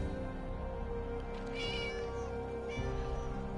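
A cat meowing inside a video game, a couple of drawn-out, moderately faint meows rising over a steady background hum and game ambience, with no talking.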